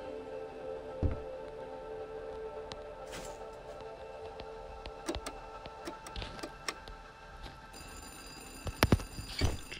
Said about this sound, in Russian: Телефон звонит.